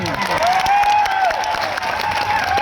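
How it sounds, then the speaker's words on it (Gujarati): Audience at a public program in Netrang applauding a senior legislator, loud dense clapping throughout, with a high feedback-like tone ringing over the crowd. "આનંદભાઈ પટેલ સાહેબ માટે જોરદાર તાળીઓ પાડ લઈએ"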